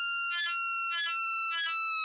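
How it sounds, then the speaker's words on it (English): A pure electronic tone holds steady while three short bursts of warbling pitch bend ripple through it, evenly spaced. "And then we add a pitch bend,"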